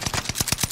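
Quick, evenly spaced automatic gunfire in a shooter video game, about six close, punchy shots in well under a second.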